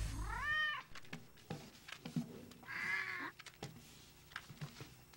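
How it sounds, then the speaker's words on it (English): A cat meows in a few distinct calls, a drawn-out one at the start and another mid-way, with scattered shuffling and soft knocks between them in a quiet room. "Does your cat make too much noise?"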